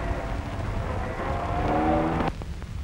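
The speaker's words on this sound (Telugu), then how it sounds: "అదిగో కారు వచ్చేసింది" A car pulls up on a road, its engine droning steadily and rising slightly as it nears, then a few short knocks and clatters as it arrives.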